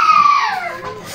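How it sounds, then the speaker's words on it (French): A young girl gives one brief, loud, high-pitched scream that slides downward in pitch, heard close by. "Il y a des petites qui hurlent."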